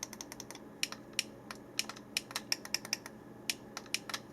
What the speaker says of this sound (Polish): dwa przyciski jeszcze prawy i lewy które tak klikają